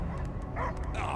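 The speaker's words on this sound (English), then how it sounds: "I hear only barking." A dog barks and yips in short bursts in the Marvel's Guardians of the Galaxy video game, close and moderately loud over a dense bed of game ambience and music.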